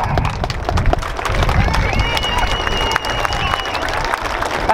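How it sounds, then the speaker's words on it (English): Crowd applause and cheering at the Dunsfold Wings & Wheels air show in 2014, a dense, loud wash of clapping mixed with crowd noise and outdoor rumble, with voices audible through it. "Let's please have a huge round of applause in Phoenix."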